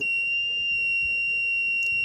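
A steady, continuous electronic alarm tone from a small homemade light-sensor circuit rings without a break, a thin high-pitched whine holding at an even level throughout.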